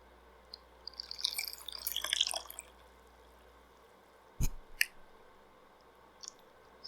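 Yarn dipped and swished through a pot of dye water for dip dyeing: a couple of seconds of soft, close sloshing and splashing, then a few scattered drips and small splashes in a quiet room with no talking.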